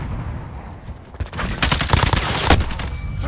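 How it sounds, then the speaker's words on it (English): Gunfire in the video game Call of Duty: Modern Warfare during a multiplayer match, with dense overlapping shots and rapid bursts building after a quieter start, loud and chaotic with constant battle noise. "Taking fire over here."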